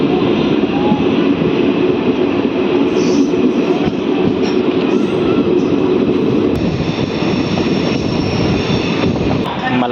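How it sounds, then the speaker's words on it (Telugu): A DEMU passenger train pulls out of Falaknuma station on the Mahabubnagar–Kacheguda line, a loud, steady rumble of wheels and carriage noise that carries unbroken throughout. "ఫలక్నామా నుంచి మన ట్రైన్ బయలుదేరిపోయింది"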